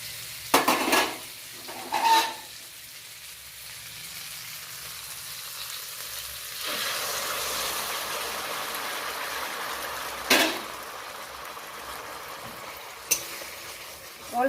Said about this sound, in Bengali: এই পর্যায়ে অল্প গরম জল যোগ করে দেব।